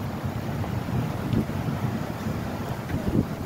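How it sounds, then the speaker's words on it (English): Steady, heavy wind roar buffets the microphone, with low surging water noise beneath it and occasional gusts swelling louder. No voices. "Rough waves, totally windy."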